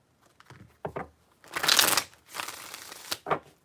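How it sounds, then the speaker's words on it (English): Tarot cards shuffled by hand make several crisp riffling bursts, one long flutter in the middle flanked by shorter snaps, close and fairly quiet with no talk. "Give me some tarot. 3 shuffles."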